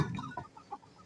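Chickens on a home farm cluck in short, close bursts as the coop is opened, a few brief calls over low background rumble.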